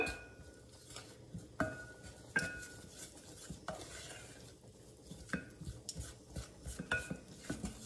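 A keto béchamel thickened with xanthan gum is stirred in a pan, the utensil scraping softly and clinking sharply against the metal in an irregular rhythm, quiet and close with no talk.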